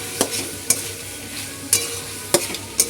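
Chicken, onion and chopped capsicum stir-fry in a pan with Schezwan sauce; soft background sizzle is broken by about five sharp, close clacks of a spatula against the pan, spaced irregularly.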